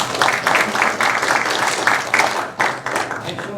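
A theatre audience bursts into applause, a dense, loud wash of many hands clapping with a short dip before it swells again.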